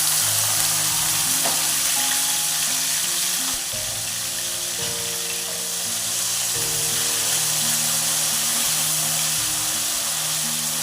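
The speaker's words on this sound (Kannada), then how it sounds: "ನಾನು ಇವಾಗ ಮೂರು ಈರುಳ್ಳಿ ಚಿಕ್ಕದಾಗಿ ಕಟ್ ಮಾಡಿ ಪೀಸ್ ಮಾಡಿಕೊಂಡು ಇದರಲ್ಲಿ ಹಾಕೊಳ್ತಾ" Finely chopped onions fry in oil in a pan for vegetable upma, giving a loud, steady, dense sizzle that stays constant throughout with occasional stirring.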